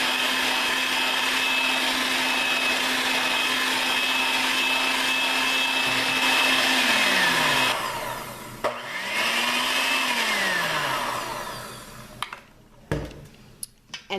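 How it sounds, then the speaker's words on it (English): An electric mixer fitted with a whisk attachment whips shea butter with essential oils, giving a steady loud motor whine that slows and winds down, briefly restarts, then stops, followed by a few light clinks. "I switched my attachment over to my whisk, and I'm just going to whisk in the essential oils that we added in"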